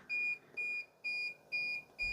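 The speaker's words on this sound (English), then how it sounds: "high current alarm kicking in." A WT540 multimeter's high current alarm sounds as a train of five short, shrill electronic beeps in an even rhythm, close and clear against a quiet background.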